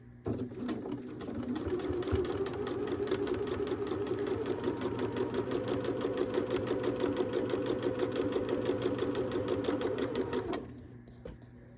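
A sewing machine runs in one steady, continuous burst of stitching for about nine seconds, piecing flying geese quilt blocks from directional Halloween fabric, then stops abruptly, leaving quiet room tone.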